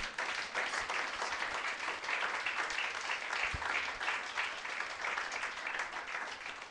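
Sustained applause from a church congregation, steady and fairly even throughout, with a faint voice briefly underneath.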